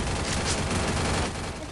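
Dense, continuous gunfire from the mobile battle royale game Free Fire, loud and steady bursts filling the whole stretch without pause, mixed with game sound.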